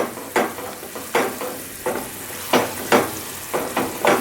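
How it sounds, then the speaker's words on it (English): A spoon or spatula scrapes and stirs thickening dark caramel sauce in a pan, sizzling softly with repeated strokes about every half second to second, close and alone. "And you keep stirring and stirring and stirring."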